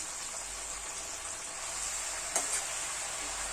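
Five or six green chillies fry in a pan for gongura pulihora, a steady bright sizzle close by with one brief scrape of stirring near the end.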